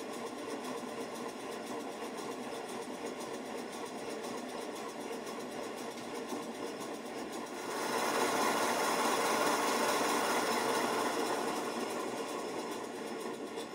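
A 5 inch gauge GWR 14xx model steam locomotive running: steady hissing, rapid mechanical chuffing and clatter close by, growing louder and fuller partway through, with no talking.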